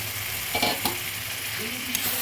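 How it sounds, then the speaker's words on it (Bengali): Marinated chicken coated in turmeric, salt and mustard oil fries in a pan, a close steady sizzle with a few brief stirring clatters and a faint tonal sound near the end. "দিয়ে দেব মেরিনেট করা মাংসগুলো"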